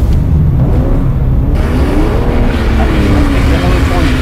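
A BMW M3 engine revs and accelerates during a drift, a loud continuous roar with rising pitch, with talk over it.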